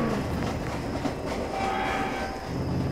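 A train rolls past in the Roblox game Jailbreak, a steady, dense rumble with rail clatter and a faint high whine running continuously, fairly close and loud throughout.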